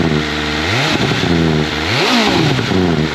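A 2022 BMW S1000RR sportbike engine revs hard and close, with rising and falling pitch sweeps over a steady loud roar, two sharp throttle blips mid-way.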